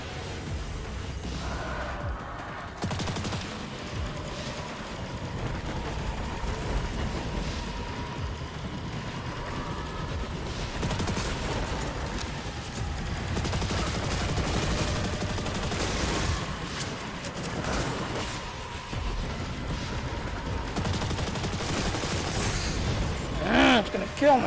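Gunfire in the video game Destiny 2 during a mission, dense continuous bursts of shots and booms mixed with explosions and game effects, someone talking over the action.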